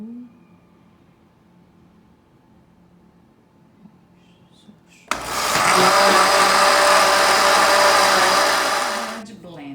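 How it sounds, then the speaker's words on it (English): An electric blender whirs loudly, mixing beaten eggs for French toast, starting abruptly midway after a quiet stretch with faint background sounds and running steadily to the end. "Agora que eu já misturei metade no liquidificador"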